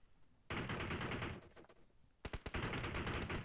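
Bursts of rapid, loud gunfire in the battle royale video game BGMI, with sniper rifle action: a dense roar of shots, a pause filled with scattered cracks, then a second sustained volley.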